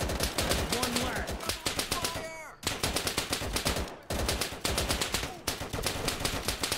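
Thompson submachine gun firing in the video game Easy Red 2 during the Battle of Anzio, loud rapid automatic bursts of rattling shots with two brief pauses between long strings of fire.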